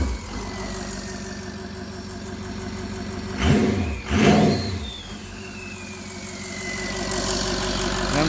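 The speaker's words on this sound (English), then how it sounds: "It already wants to kick up onto its high idle." A Ford 6.0 Powerstroke diesel engine running on a test stand without coolant idles with a steady, loud rumble, briefly surges twice in quick succession midway, then settles back toward a raised high idle.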